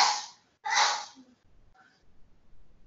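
Two sharp, breathy sneezes from one person come close together, loud and near, then quiet room noise and a faint short voice sound follow.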